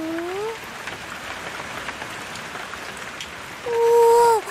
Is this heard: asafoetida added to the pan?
no